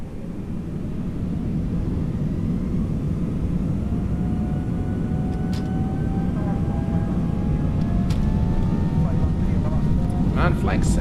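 A Toliss A321 airliner rolling for takeoff in the X-Plane 11 simulator, a steady loud engine roar with rising whine tones that builds across the clip.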